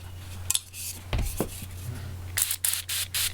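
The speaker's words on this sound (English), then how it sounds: "this time we're going to spray it" A few short bursts of spray from a makeup highlighter spray bottle, close to the microphone, come in quick succession near the end after some clinking handling sounds, with a steady low hum underneath.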